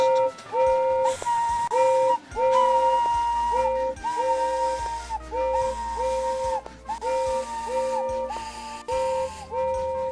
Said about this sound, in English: He was purple in the boiler, and whistling fit to burst.